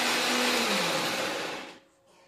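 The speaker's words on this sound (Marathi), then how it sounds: "यामध्ये पाणी न घालता वाटण तयार करून घ्यायचं आहे।" A kitchen mixer grinder blitzes a thick, dry masala paste for matar paneer without any water, a loud steady whirring roar that runs continuously and then cuts out abruptly near the end.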